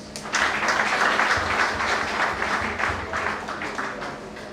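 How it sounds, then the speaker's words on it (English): Steady applause from a crowd at a state inauguration event, a dense patter of clapping that holds at moderate loudness for several seconds. "Let us clap for Jesus."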